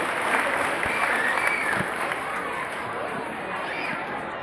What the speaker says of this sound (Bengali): জোরে করতালি দিন।